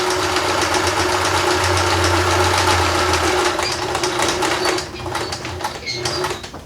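A domestic sewing machine runs a zigzag satin stitch on recycled denim jeans, a rapid, even mechanical chatter with a steady motor hum that eases off briefly near the end.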